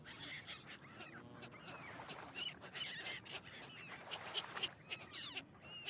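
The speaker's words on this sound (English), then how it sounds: "I hear the ducks at the moment." Ducks quacking in the Forest Ranger Simulator video game, repeated faint calls scattered over an outdoor ambience with light chirps, no talk.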